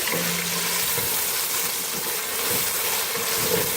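Finely chopped tomato stirred into garlic-ginger paste frying in a pan for aloo gobi gives a steady, dense sizzle throughout, close and even, with no talking.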